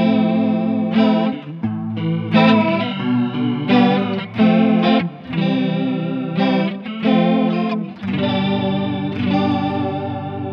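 Electric guitar through a Mooer Ensemble King chorus pedal set heavily, chords and notes shimmering with a wide, wobbling, doubled tone, loud and sustained without any talking.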